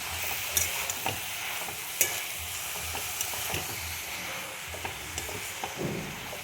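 Banana flower and chickpeas sautéed in a pan for a Bengali mocha dish, a steady close sizzle broken by irregular scrapes and clicks of a spatula stirring, with no talking.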